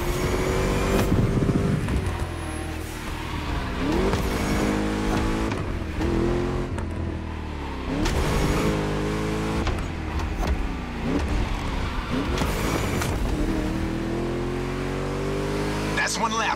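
A car in The Crew Motorfest video game drives laps, its engine note rising and dropping through repeated gear changes and revs, with a steady racing drone under a voice talking throughout.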